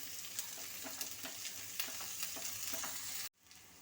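Potatoes and beans stirred in a frying pan, a steady close sizzle with repeated scraping strokes of a spoon against the pan, ending abruptly.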